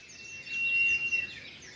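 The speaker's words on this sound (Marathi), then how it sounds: "हा शिळ मारणारा पक्षी" A whistling bird calls on a village morning, one clear sustained whistle rising in the middle of the clip over a faint, quiet background.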